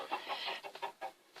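Minecraft chickens in a pen cluck softly, several short, close clucks in an uneven rhythm.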